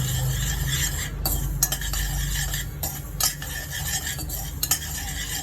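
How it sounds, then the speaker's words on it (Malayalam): Mustard seeds frying in hot oil for fenugreek mango pickle, a dense sizzle with repeated sharp scrapes and taps of a spoon against the pan, close and busy throughout. "ഇനി 1 ടേബിൾ സ്പൂൺ കടുക് ഇട്ട് കൊടുക്കാം. രണ്ട് നന്നായിട്ടൊന്ന് മൂത്ത് വരണം."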